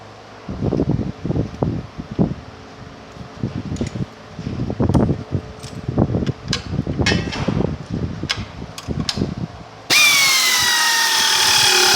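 Bolts on a KoldSpray A and B side assembly being tightened with a 1/2-inch socket and wrench, giving a close run of short, irregular metallic clicks and ratcheting bursts, followed at the end by a steady mechanical hum.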